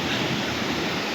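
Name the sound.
stream water flowing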